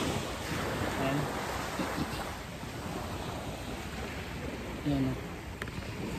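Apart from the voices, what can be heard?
sea waves on the shore at Micro Beach, Saipan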